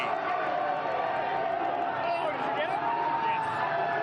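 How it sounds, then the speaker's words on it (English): A crowd of fans at the Denver Nuggets NBA championship parade, a steady distant roar under continuous nearby commentary, with no distinct peaks of cheering. "you also hear the fans right now"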